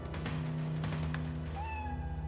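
Cat meowing once near the end, a faint rising meow over a quiet low background hum.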